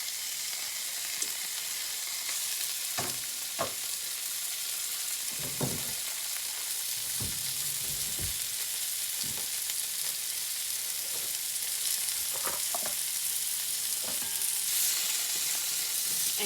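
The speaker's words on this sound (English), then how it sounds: "I've got my cast iron skillet. I've got it on about medium heat. And first thing I'm gonna do is put my bacon in." Bacon sizzles steadily in a cast iron skillet over medium heat, a continuous crackling hiss with scattered pops and a few soft clanks or stirring taps, close and uninterrupted, with no one talking.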